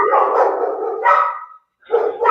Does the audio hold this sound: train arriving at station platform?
no